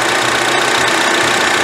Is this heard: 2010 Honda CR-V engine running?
yes